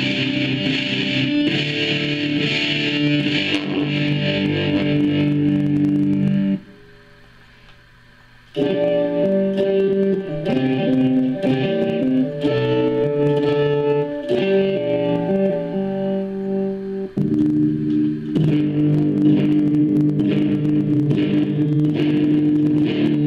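Electric guitar played through a Boss ME-25 multi-effects pedal on an extreme setting, heavily processed and distorted sustained notes and chords that drop away briefly in the middle.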